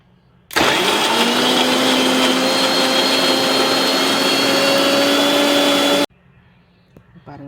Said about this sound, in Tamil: இந்த எண்ணெய் ஆறுனது இந்த எண்ணெயை விட்டே கொஞ்சம் கொஞ்சமாக அரைச்சி எடுக்கணும்